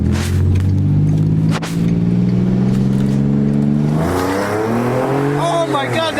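Car called the Trackhawk killer revving hard, a loud, close engine roar rising steadily in pitch before dropping and climbing again, with people shouting over it.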